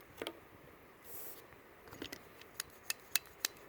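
A Husky PVC pipe cutter squeezing through thick Charlotte PVC pipe, a series of sharp clicks and ratcheting snaps growing more distinct toward the end, close up and fairly quiet.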